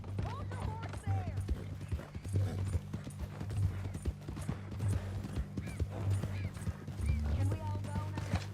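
Horse hooves clip-clop in a steady rhythmic walk in the video game Red Dead Redemption 2, close and moderately loud, with voices talking over the hoofbeats throughout.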